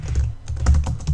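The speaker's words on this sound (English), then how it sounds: "I'm going to type in the word grouping worksheets" Rapid typing on a computer keyboard, a quick run of close, crisp keystrokes with no talking.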